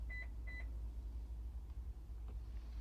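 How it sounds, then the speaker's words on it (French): Two short, high electronic beeps in quick succession near the start from a 2020 Toyota Yaris key being programmed, followed by a low steady hum with faint background noise. "Vous allez entendre un bip."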